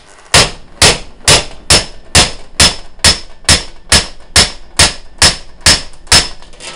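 Rivet ends on a round colony trap beaten flat with a hammer, thirteen loud, sharp metallic blows struck close up at an even, steady pace of about two per second.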